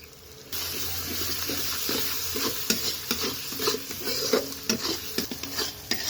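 Yogurt is stirred into spices frying for a duck egg curry, a quiet start giving way to a loud sizzle and wet bubbling with repeated sharp spoon scrapes and clinks against the pan.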